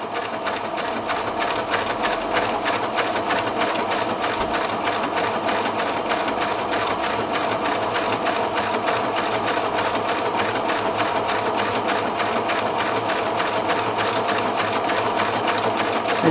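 A Pfaff Classic Style sewing machine stitches a buttonhole with the buttonhole foot, its rapid, even mechanical chatter running steadily and close for the whole stretch with no talking.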